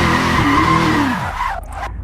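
Car drifting under throttle in Assetto Corsa, a loud sustained engine roar with tire squeal over about a second and a half, then falling away into quieter rumble.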